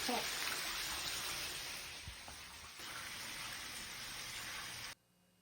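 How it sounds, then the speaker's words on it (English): Water gushes steadily from old, abandoned shower plumbing hidden behind a closed-off wall, a loud continuous hiss that cuts off abruptly near the end. "That's a lot of water."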